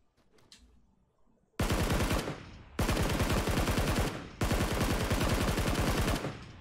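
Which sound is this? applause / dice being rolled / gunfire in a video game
gunfire in a video game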